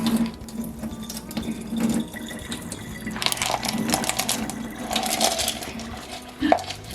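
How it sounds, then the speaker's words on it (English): Tumbler rocks and gritty water pour through a plastic strainer as an uneven, splashing trickle that swells and fades, with a few sharp knocks near the end and no talking. "Pour your rocks and grit water through the strainer."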